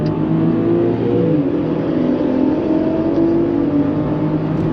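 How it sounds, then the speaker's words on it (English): Tuned BMW X5 SUV pulling away, a steady loud engine drone with rising revs building throughout, heard from inside the cabin with no talk. "we're gonna hop inside the X5 and we're gonna go for a drive"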